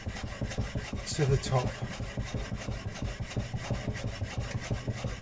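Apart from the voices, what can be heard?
blade bevel being honed on a waterstone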